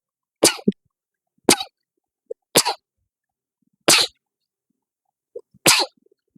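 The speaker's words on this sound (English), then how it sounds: "let me sneeze real quick" Five sharp, separate bursts like sneezes or coughs, spaced a second or so apart, close and fairly loud, with quiet gaps between them.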